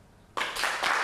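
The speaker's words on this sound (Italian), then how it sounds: "pubblicità con l'applauso dei bambini" Children applaud at an outdoor TV sports event in a piazza, a sudden burst of quick, dense clapping that starts from near silence and continues loudly to the end.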